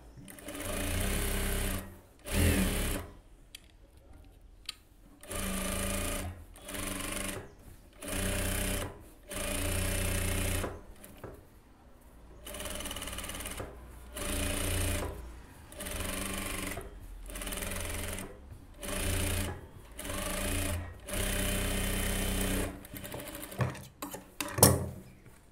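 A sewing machine stitching over the lining of a blouse back neck, running in repeated bursts of steady whirring separated by short pauses, close and clear with no talk.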